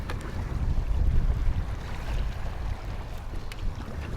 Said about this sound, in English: a little bit of wind over tide to greet me, a little bit of messy chop